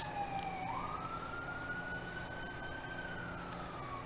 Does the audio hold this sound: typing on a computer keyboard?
no